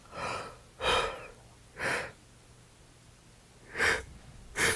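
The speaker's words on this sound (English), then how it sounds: "that was a big yawn" A big yawn with a drawn-out breathy exhale, part of a series of loud, close breaths and gasps spaced about a second apart.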